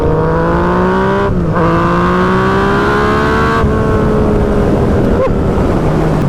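A 2016 Yamaha FZ-09 motorcycle engine drones loudly under throttle while riding, its pitch climbing through gears with short dips at shifts and steady wind rush behind.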